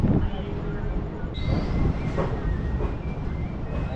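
Suburban local train running from Arakkonam to Tambaram, a steady close rumble of the carriage with faint wheel squeal and rail noise filling the whole stretch, under low indistinct chatter.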